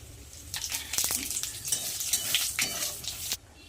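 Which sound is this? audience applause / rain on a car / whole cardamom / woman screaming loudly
whole cardamom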